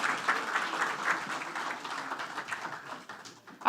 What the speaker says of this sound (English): Another round of applause for Mr. Chernagay, everyone.